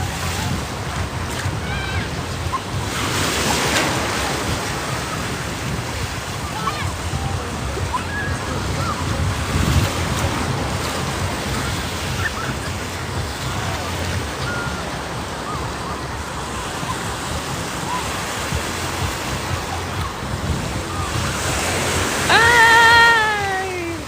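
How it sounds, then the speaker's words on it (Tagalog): Strong ocean waves roll onto the shallow shore of Boracay beach, a continuous wash of surf with gusts of wind buffeting the microphone and brief voices at moments. "Lalakas ng alon."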